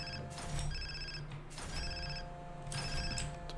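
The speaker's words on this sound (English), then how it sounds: "It's my phone going off." Telephone ringing in repeated electronic bursts of about a second each, three rings with short gaps, fairly clear and steady with no talking.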